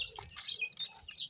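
Small chicks chirp faintly with a few quick, high peeps and soft clucking in a short burst; no one speaks over them.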